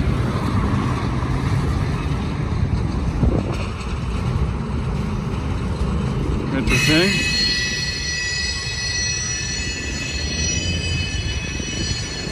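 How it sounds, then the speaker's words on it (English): A long freight train passes close on railroad tracks as its DPU locomotive approaches, the wheels rumbling loudly and then squealing in sustained high-pitched tones through the second half. "There's your DPU coming up."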